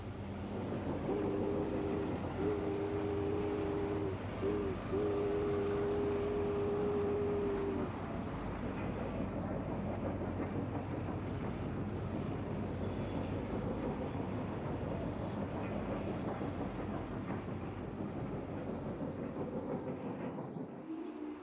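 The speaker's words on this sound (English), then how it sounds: "An Amtrak passenger special receives a slow order on approach to the busy Prestonville Yard." A brass model Amtrak FP45 diesel locomotive pulls Superliner passenger cars along a layout. A steady, faint rumble of running wheels and motor carries throughout, with a sustained horn-like tone in the first several seconds and no talking.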